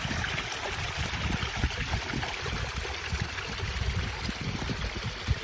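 A mountain stream high in Mosedale runs steadily, a constant close rush and babble of water with no voices over it.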